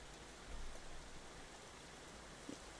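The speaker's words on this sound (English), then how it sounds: "Yeah, y'all hear the rain." Steady rain falling outside during the afternoon, a soft even hiss of drops that is faint and continuous, with no voices over it.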